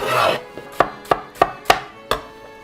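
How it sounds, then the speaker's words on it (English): A knife chops through an onion on a board for a venison meat sauce: about five sharp, crisp strikes at an even rhythm, close and clear with no talking. "Just chopping the onion."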